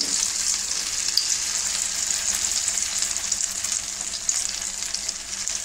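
Uthappam batter sizzles steadily on a hot pan in a home kitchen, a continuous bright crackling hiss that stays close and even throughout with no talking.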